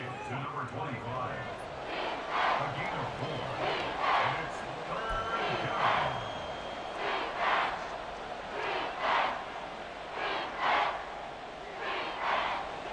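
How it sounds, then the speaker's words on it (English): A simulated stadium crowd in a Madden NFL 24 game, Buccaneers versus Dolphins, roars in rhythmic surging waves that swell and fade repeatedly at a moderate distance. "This crowd turning up the decibel level."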